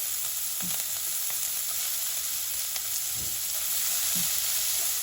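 Spices sizzle steadily in a small amount of oil over low heat while being stirred for chili salt popcorn chicken, a continuous close frying hiss with faint scraping stirs, no talk.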